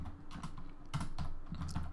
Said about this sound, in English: we will type in Jackson.